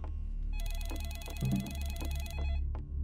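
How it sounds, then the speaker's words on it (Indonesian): A telephone rings inside the Roblox game Home Alone Experience, a steady electronic trill repeating in two bursts over a low background hum, with no talk. "Ada yang nelpon."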